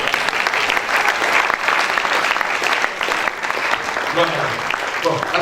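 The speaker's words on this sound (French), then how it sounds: "Acclamons d'abord pour les femmes." A church congregation applauds the women standing during a service, with a dense, sustained burst of clapping that fills the room, and a voice speaks over it near the end.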